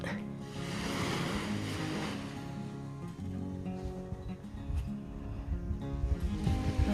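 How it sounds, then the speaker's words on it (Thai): Sea waves roll in on the beach in front of lodging at Khlong Nin, Ko Lanta, a continuous low surf wash mixed with wind rumble and some tonal background sound. "นี่คือทะเลอยู่หน้าที่พัก"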